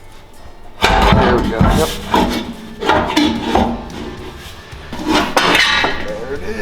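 Metal scraping and rubbing as a Honda Talon muffler is lifted and slid off its bracket, with several rasping bursts close by while people talk briefly.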